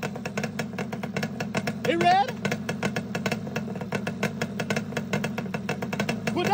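A Yamaha Banshee ATV engine idles with a steady, rapid two-stroke putter throughout, close and fairly loud, while someone talks over it.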